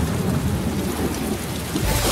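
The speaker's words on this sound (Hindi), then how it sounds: "बारिश भी शुरू हो गई है" Heavy rain pours down with deep rolling thunder in a dramatic outdoor scene, a dense, loud and continuous wash of noise with low rumbles underneath and no voices.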